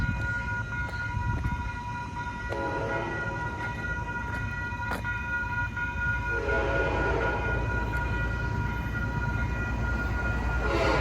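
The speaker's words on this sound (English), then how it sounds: "I love trains." A train rumbling past near a station stop on the line to New York, with a steady rolling roar and sustained horn tones sounding over it, no talking.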